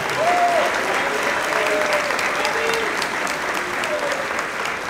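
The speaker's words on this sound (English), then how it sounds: "Let's give them a big round of applause." Loud crowd applause at a high school football banquet, dense continuous clapping from a room full of people with faint voices and whistles mixed in.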